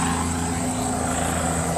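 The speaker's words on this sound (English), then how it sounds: "Oh, there you go. That's a helicopter." A news traffic-report helicopter flies over the city, its steady rotor drone and engine whine filling the scene at a constant, moderate level without pause.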